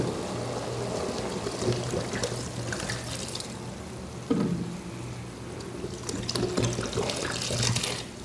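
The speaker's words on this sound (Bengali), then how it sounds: "এই যে জলদা দিলাম জলদা দিছি" Water pours steadily into a pan of gulsha fish and flat beans cooking on the stove, a continuous close trickling and splashing with a faint sizzle underneath, no talk.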